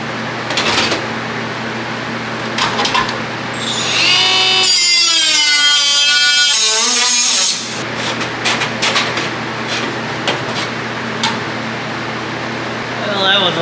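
Power tool cutting a patch out of thin metal, a steady loud whine with shifting pitch lasting about three seconds, framed by workshop noise and clattering before and after.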